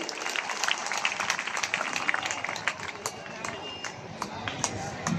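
Sustained applause from a large audience at an evening show programme, a dense steady patter of clapping with no pauses.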